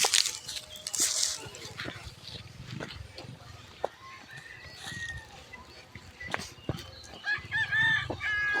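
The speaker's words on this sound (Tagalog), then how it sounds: "Tingog ng manok ni Rickmar guys." A rooster crows several times from nearby, with scattered clucks and rustling in between and faint outdoor background.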